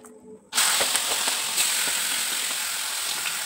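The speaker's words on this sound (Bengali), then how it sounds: "এই মাছগুলো ভাজা হচ্ছে" Prawns fry in a wok, bursting into a loud, continuous hiss and sizzle after a quiet half-second and holding steady to the end without talk.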